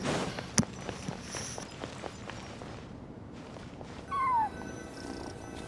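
A small cat purrs and gives a few mewing cries in a ruins area of Genshin Impact, heard close over soft footsteps and ambient game sound, with one brief higher cry near the end.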